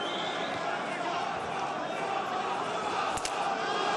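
Crowd noise from a live Bellator MMA arena fills the background steadily, a broad continuous roar of spectators behind the action, with a commentator talking over it.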